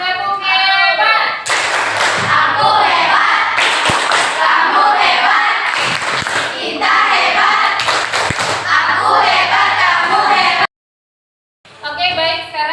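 A classroom of children performs the "tepuk hebat" clapping routine, a loud burst of rhythmic group clapping and thumps with young voices mixed in, stopping abruptly before a brief silence and a return of sound.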